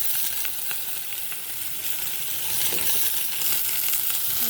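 Chopped potatoes and onions fry in a pan with a steady, dense sizzle, scattered with small scraping and clinking stir sounds; no voices are heard.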